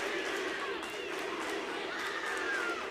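Crowd at a live wrestling world championship match cheering and shouting during the bout, a continuous roar with rising yells and whoops, moderately loud and steady throughout.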